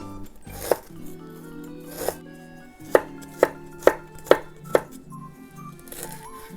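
A knife chops ginger on a cutting board, giving about seven crisp, evenly spaced knocks over a faint background hum.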